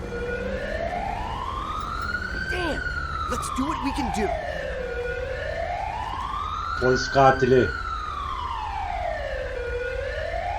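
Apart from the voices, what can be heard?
ambulance siren in the video game GTA 5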